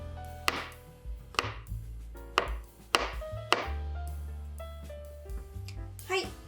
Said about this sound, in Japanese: じゃあ 5mm 幅に切っていきます。